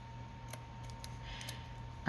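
Scissors snip through paper while a double pocket journal is being made: a few quiet, crisp clicks of the blades close by, with a soft rustle at the end.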